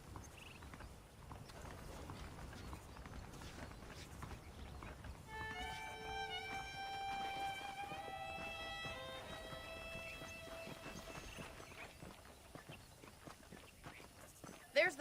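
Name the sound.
horse hooves clip-clopping while riding in video game Red Dead Redemption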